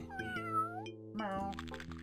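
A cartoonish cat meows twice, a drawn-out mew followed by a shorter one, clear and close over a steady synthesized tone, from the Windows 3.1 game The Magic School Bus Explores the Human Body.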